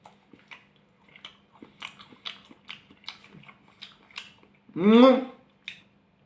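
Sliced avocado being eaten: a string of small, soft, moist chewing clicks close to the mic, then one louder, longer vocal sound near the end, over a faint steady hum.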